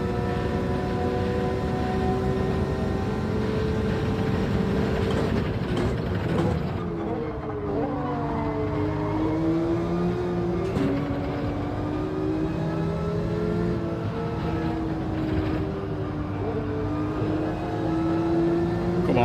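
A Subaru BRZ's engine in Gran Turismo 7, racing at Catalunya, drones steadily and loudly throughout, its pitch dipping and climbing as revs fall and rise through gear changes, with no talking.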